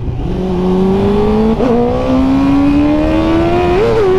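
A 2001 Suzuki GSX-R 600 K1 sport motorcycle engine with 172,000 km on it revs steadily and loudly, its pitch climbing gradually with a brief blip midway and another near the end, alone and close by.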